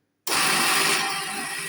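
An electric mincer whirs steadily as it pushes sausage meat into natural casings for British bangers, starting abruptly and running loud and close for over a second with a slight drop toward the end.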